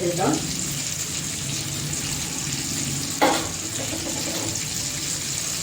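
Mustard seeds and cumin sizzle and crackle in hot oil for a chutney tempering, a steady close-up hiss with one sharper pop partway through. No speech is heard.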